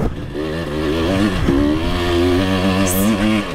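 Motorcycle engine running on an enduro test ride with a factory ECU, a loud, close, steady buzzing drone that dips briefly and then climbs again in pitch.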